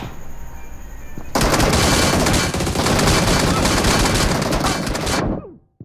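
Sustained automatic gunfire from a mobile shooter game in a team deathmatch gun game bursts in loud and dense, rattles steadily for about four seconds, then cuts off abruptly.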